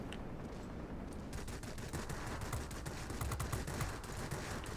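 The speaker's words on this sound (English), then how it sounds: "Most of my cannon fire was not hitting there" Rapid bursts of aircraft cannon fire from a fighter plane in World of Warplanes, an Antonov M, crackling in quick repeated volleys over a steady engine drone, fairly faint in the mix.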